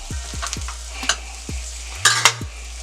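Seasoned vegetables browning in a pan, a steady sizzle with intermittent scraping stirs and a few sharper clacks, over a low droning hum that shifts briefly partway through.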